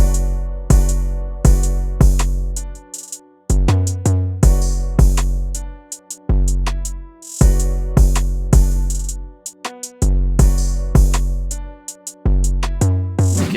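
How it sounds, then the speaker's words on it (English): Hard trap-style synth melody loop from an FL Studio session playing with heavy drums, punchy kicks and booming bass hits in a steady repeating pattern, loud and full, no talking. "together with the drums it would sound something like this."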